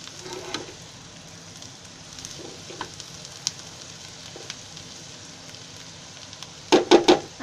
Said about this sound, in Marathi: का असं कारली कांद्यामध्ये अशी थोडी मिक्स करून घ्यायची चांगली, म्हणजे कांद्याबरोबर कारली पण शिजून येतात.